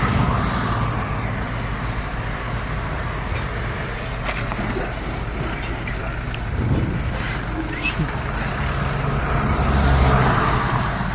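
A motor vehicle pulls away in first gear, its engine and road rumble steady and close, rising slightly in loudness toward the end, with outdoor traffic noise around it.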